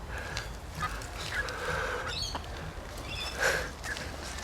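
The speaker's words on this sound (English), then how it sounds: "Happiest chickens in the world." Backyard chickens, including a Rhode Island Red, make soft clucks and short calls in a coop, fairly faint amid steady outdoor background noise.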